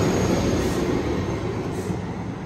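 Amtrak San Joaquin train #714, hauled by a Siemens SC44 Charger locomotive, arriving at the Fresno Amtrak station in California: a loud, steady rumble of rolling railcars with a faint wheel squeal, close by and without speech.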